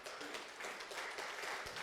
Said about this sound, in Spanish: Dele un fuerte aplauso al Señor en acción de gracia.